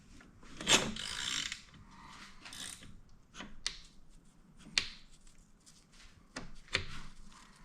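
Ratchet working on a bolt on the rear cylinder head of an Aprilia Tuono motorcycle during valve-clearance reassembly, heard as a few short, sharp clicking bursts spread across a quiet workshop background.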